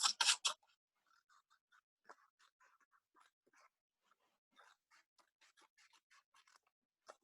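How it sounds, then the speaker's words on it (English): Scissors cutting dove wing shapes out of paper, opening with three loud crisp snips, then a long run of small, quiet clicks and snips in a silent room. "Then cut as neatly as you can along those lines"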